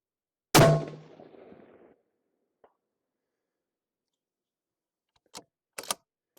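A single sharp rifle gunshot fired from a flat barricade position cracks out loudly near the start and rings off for over a second, followed by a few faint distant clicks and knocks.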